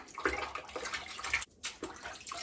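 Water splashes and runs over a removable part of a Philips robot vacuum cleaner as it is rinsed by hand, with a short gap partway through, fairly quiet and close.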